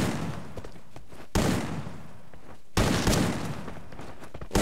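Video game gunfire arrives as sudden loud bursts, each abrupt blast decaying into a rough roar, repeating about every second and a half over steady game noise.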